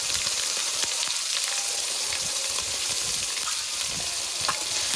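Ground spice paste of onion, ginger-garlic, cumin and chilli frying in hot oil in a pan, a steady dense sizzle throughout with faint crackles, close and fairly loud, no talking.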